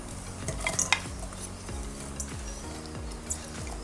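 Onion, red chilli and capers frying in hot olive oil, a steady close sizzle with stirring scrapes and light clinks of a utensil against the pan, no voices.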